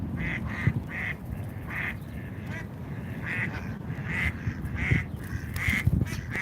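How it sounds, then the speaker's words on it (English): A group of ducks quacks loudly and repeatedly in overlapping bursts, squabbling among themselves outdoors amid background crowd noise at a Washington DC protest, agitated by a nearby dog. "These ducks, of course, are very upset by this dog over here. They're making a lot of noise"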